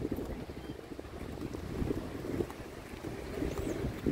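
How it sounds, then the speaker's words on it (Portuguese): Steady wind at Praia Grande beach in São Paulo buffets the microphone with a continuous low rumble, moderately loud and unbroken, with no speech. "tá um vento gostoso, sabe?"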